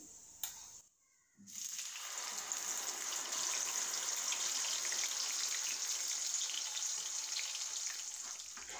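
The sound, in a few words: ground spices frying in oil with cumin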